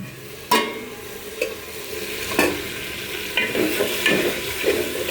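Spiced masala paste fried and stirred in a pan with ground garam masala and cumin in a home kitchen, a steady low sizzle broken by several sharp scrapes of a spoon against the pan.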